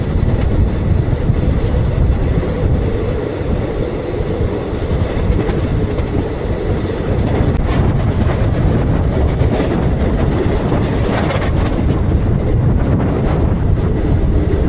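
Sabari Express, an ICF-coach passenger train, rumbles along at speed, a steady loud roar and clatter from the rails with wind rushing past, continuous throughout with no talking.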